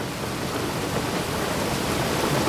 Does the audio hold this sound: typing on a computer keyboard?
no